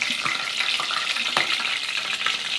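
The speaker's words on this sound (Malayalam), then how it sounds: "പാൻ അടുപ്പത്ത് വെച്ച് അതിൽ എണ്ണ ഒഴിച്ച് എന്നിട്ട് കടുക് കടുക് ഇടുന്നുണ്ട്" Mustard seeds frying in hot oil in a pan on the stove, a steady close sizzle with small crackles and pops running throughout.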